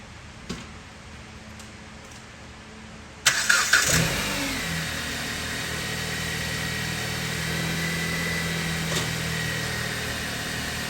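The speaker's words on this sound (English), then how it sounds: "I'm going to start the car." A 2013 Dodge Avenger with crankshaft position sensor trouble cranks briefly and fires up, then settles into a steady mid-pitched idle that holds to the end, a few faint clicks before it.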